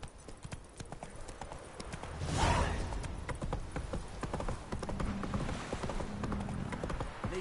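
Galloping hooves of the horse Roach in The Witcher 3 pound steadily throughout, a continuous rapid clip-clop under wind and ambient game noise, with a louder swell partway through.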